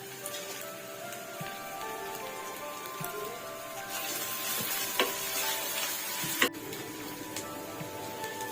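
Chopped green chillies fry in oil with browning onions, giving a continuous soft sizzle and crackle throughout, with a few faint pops and utensil taps.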